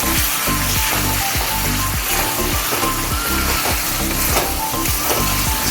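Chicken pieces cook in oil they have released for a Bengali chicken kanti, giving a steady, dense sizzle that runs the whole time under soft background music.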